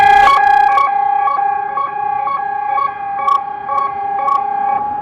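A Klaxon ES3S emergency siren at the Port Talbot steelworks sounds during a test, a loud steady multi-tone wail pulsing in rapid repeated bursts, heard alone.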